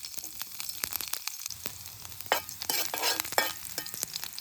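Green chilies frying in oil in a pan at a night forest campsite, a crackling sizzle with sharp pops and spitting bursts, growing louder and busier midway; no one speaks.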